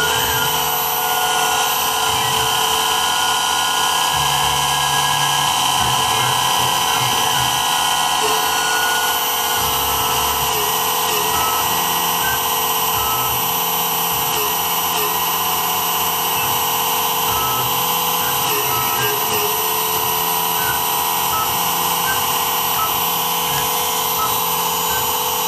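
A Mikini 1610L CNC mill cuts a part with a steady, loud high-pitched whine from the spindle, while lower machining tones shift underneath and a voice talks over it.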